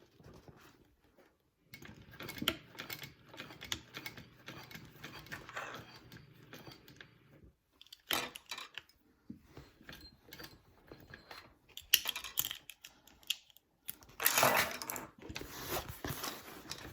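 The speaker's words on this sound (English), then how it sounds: "let's sew this connector on here" A sewing machine stitches a connector onto a Claire shoulder bag, running in several short bursts of rapid mechanical clatter separated by brief pauses, with a low motor hum under the first stretch.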